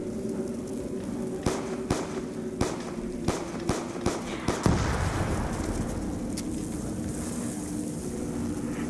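Repeated sharp gunshots ring out in a zombies survival video game, about a dozen evenly spaced blasts over a few seconds, loud and close, ending in a heavier burst before a steady background hum takes over.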